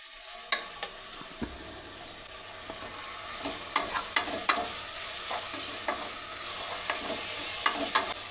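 Washed rice and roasted peas being stirred in a hot pan, a steady sizzle broken by repeated sharp scrapes and clicks of a spoon against the pan, close and fairly loud with no voices.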